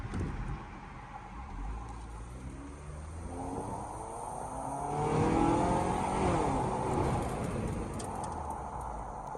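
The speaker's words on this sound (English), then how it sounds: "I'm actually going to crack my windows so you can hear the engine" A 2016 Scion tC engine revs up and accelerates steadily while driving, heard through cracked windows, its pitch climbing through the gears over a continuous road rumble.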